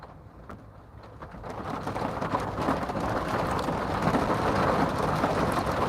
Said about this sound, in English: Y'all hear this rain?